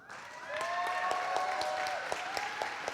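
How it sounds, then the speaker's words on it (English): Sustained applause from an audience at a graduation ceremony as a graduate is called up, steady clapping rising after a brief quiet start and holding fairly loud, with a few sharper claps standing out. "Give her a round of applause."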